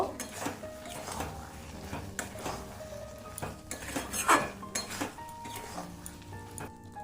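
A spoon stirs jujube pickle with jaggery, salt and turmeric in a metal pan, giving repeated close clinks and scrapes of utensil on pot in an uneven rhythm over a low kitchen background.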